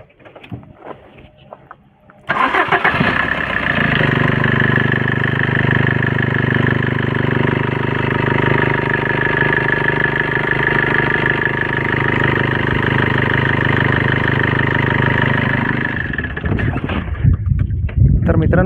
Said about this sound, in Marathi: हे होता गाडीच्या इंजनचा आवाज